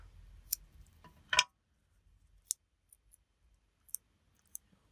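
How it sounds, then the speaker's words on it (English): Scissors trim the corner of a paper card in close, quiet snips, a few sharp clicks spaced irregularly against near silence. "And let's trim that corner."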